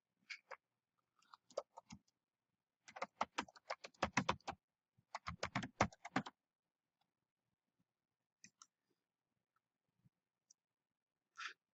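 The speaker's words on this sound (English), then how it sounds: "I'm going to type in an address here." Someone types an address on a computer keyboard, with close, quiet key clicks in quick bursts, a sparse start, two dense runs, then a few isolated taps amid near silence.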